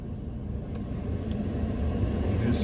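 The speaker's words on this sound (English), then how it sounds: "I'm gonna start the truck." A 2017-or-later Ford F-250 pickup truck engine runs with a steady low rumble, close by and fairly quiet, continuing evenly throughout with no talk.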